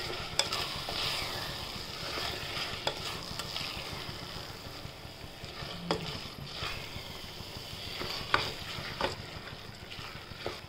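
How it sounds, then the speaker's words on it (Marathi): Mint rice with salt being stirred and sautéed in a pan, a soft steady sizzle with scraping spoon strokes and occasional clinks, fairly quiet and with no talking. "चवीनुसार मीठ टाकूया आपण, छान हलवून परतून घेऊया"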